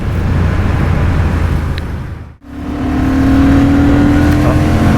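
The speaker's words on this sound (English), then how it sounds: "5th gear again, rolling on, clipping into top gear" A Honda Hornet CB750 motorcycle rolls on the throttle in fifth gear, with a loud, steady engine roar and rushing wind that dip briefly, then climb again with a rising tone.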